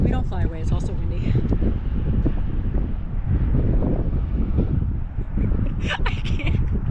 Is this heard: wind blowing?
yes